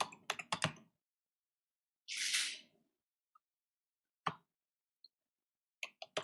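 A few scattered keystrokes on a computer keyboard, isolated taps and short clusters spread across quiet gaps, with one brief soft burst of noise midway; close and fairly faint, no talking.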